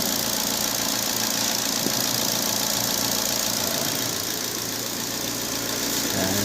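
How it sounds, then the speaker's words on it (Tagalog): A Ford EcoSport engine idles steadily with a continuous mid-pitched hum and faint knocking vibration, close and unchanging throughout, with no talk. "Maandar na yung sasakyan."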